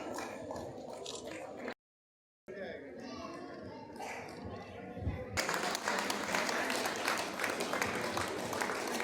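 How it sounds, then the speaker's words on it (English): Applause at a chess tournament prize ceremony rises in the second half as a prize winner is honoured, a broad burst of clapping from the crowd after a stretch of announcer talk and background chatter, with a brief silent gap. "A big round of applause for him."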